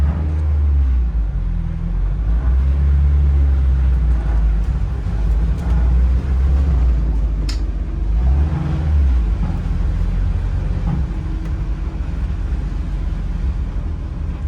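A Chevrolet Astro van drives along with a low, steady rumble from the engine and road, the drone swelling slightly now and then, heard from inside the cabin with no talking.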